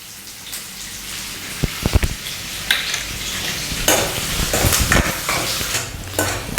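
Chopped onions hit hot oil and sizzle loudly in a pan alongside curry leaves, a bright continuous hiss with several sharp pops and crackles and a few stirring clatters, no voices.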